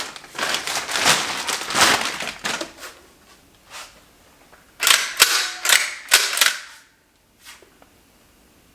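A Beretta shotgun back from a warranty repair is handled and its action cycled, giving clusters of sharp metallic clacks and clicks close up, separated by short pauses.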